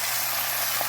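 Steady sizzling of white wine hitting a hot pan of chicken thighs with garlic and red onion, a close, continuous crackling hiss with no break.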